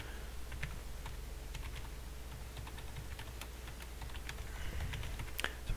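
Keys tap on a computer keyboard as an email address is typed, a steady run of quiet, close clicks with no talking.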